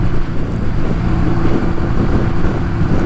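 A vintage motorcycle ridden at night gives a steady, loud engine drone with constant wind buffeting across the microphone, unbroken from start to finish.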